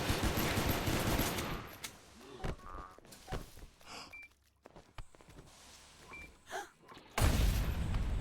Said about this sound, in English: Some explosive grenades being tossed.